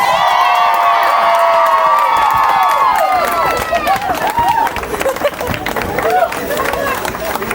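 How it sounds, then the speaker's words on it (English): Karaoke crowd erupts after a marriage proposal, with high shrieks and cheering voices at first, then giving way to scattered clapping and excited shouts, loud and close. "Big round of applause!"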